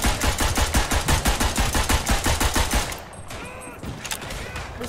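A gun fires in the trench shooter Verdun, a rapid, steady burst of loud automatic shots for about three seconds, then it stops and leaves a quieter battlefield ambience.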